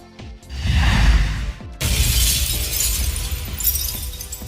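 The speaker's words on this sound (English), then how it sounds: "he shattered that condensed space" A shattering burst like breaking glass erupts after a brief whooshing swell, followed by a bright, scattering crash that lingers loudly for a few seconds.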